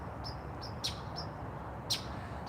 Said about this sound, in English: Like I said, you can hear that bird.